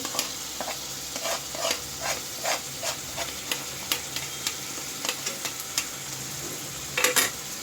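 Chicken frying in a pan with ground cumin paste, stirred with a utensil that scrapes and taps in a steady, repeated rhythm over a continuous close sizzle and hiss.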